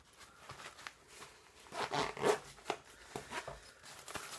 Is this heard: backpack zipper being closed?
yes